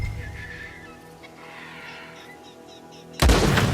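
A sudden, loud gunshot blast from Red Dead Redemption 2 breaks a quiet, low ambient stretch near the end, hitting hard with a broad booming crack.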